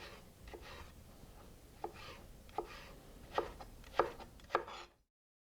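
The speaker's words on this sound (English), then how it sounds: "Then cut each stick into 5 millimeter squares." A knife cuts vegetable sticks into small squares on a cutting board, five crisp chopping taps at a steady pace over quiet background, no talking.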